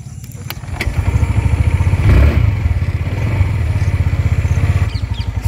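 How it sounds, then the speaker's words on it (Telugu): A TVS Jupiter Connect 125 scooter engine starting up automatically from a stop, settling into a steady, close, rhythmic putter that swells briefly before holding even, with no talk over it. "మనకు ఆటో స్టార్ట్ అయితే మీకు చూపిస్తా ఎలా అవుతుందో"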